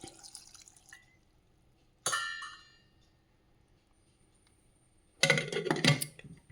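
Water goes into a cooking pot of green peas curry seasoned with salt and turmeric: a sharp metallic clink, then a brief close splashing pour, with no talking.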